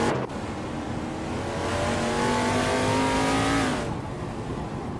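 A Mercury Cyclone race car in a racing video game on the Yas Marina GP circuit, engine revving hard and rising steadily in pitch under sustained loud roar before easing off, with faint tire noise.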